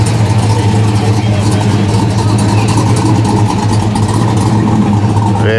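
A Ford car engine at a Ford car show rumbles steadily at close range with a deep, constant low idle throughout, while voices murmur faintly in the background.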